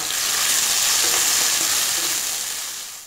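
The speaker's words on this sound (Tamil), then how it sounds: "சேர்த்து நல்லா வதக்குறோம்" Crushed shallots, garlic and brinjal sizzle loudly in a pan for a Tamil-style brinjal thokku, a steady, close frying hiss with no talking.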